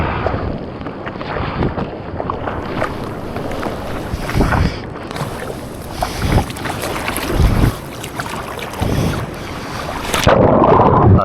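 Rough ocean surf at Ocean Beach rolls and crashes in repeated bursts under heavy wind buffeting, with several louder wave hits breaking through the constant roar.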